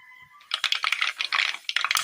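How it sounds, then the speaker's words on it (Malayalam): Mustard seeds spluttering and popping in hot oil in a pan, a dense run of sharp crackling pops that starts after a brief quiet moment and continues close and loud. "ചൂടായ എണ്ണയിലേക്ക് കടുകിടാം."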